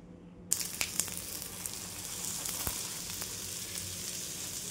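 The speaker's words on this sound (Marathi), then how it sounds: "तव्याला छान तेल लावून घ्यायचं, छान असे होल करून घ्यायचे पूर्ण, म्हणजे तेल पण टाकल्यानंतर आहे ना भाजल्या जाईल।" Cucumber thalipeeth fries in oil on a griddle, a steady close sizzle that starts abruptly after a brief silence and carries on with scattered small pops and crackles.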